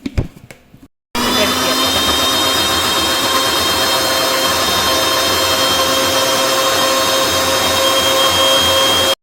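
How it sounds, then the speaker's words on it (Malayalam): An electric mixer grinder blends grated coconut with shallots and water in its jar, starting abruptly after a brief clatter and running as a steady, loud, high whine with a constant buzzing drone until it cuts off. "ഇനി നമുക്കത് മിക്സിയിലിട്ടിട്ട് അടിക്കാം."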